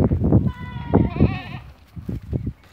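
A goat at a farm gives one wavering bleat in the middle, with people talking in the background before and after it.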